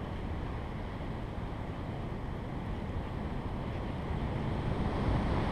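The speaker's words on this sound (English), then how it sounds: "How come the waves are much bigger? Because it's the Atlantic Ocean" Atlantic Ocean surf near an island shore makes a steady broadband roar that swells slightly louder toward the end, with wind buffeting the microphone and no voices.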